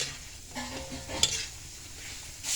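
Purple yam and potato crackers deep-fry in oil, a faint bubbling sizzle with soft stirring and one sharp utensil clink partway through.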